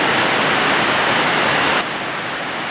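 Heavy rain pours down steadily and loudly during a power cut at a rustic home kitchen. The dense hiss drops slightly in level partway through, and no voices are heard.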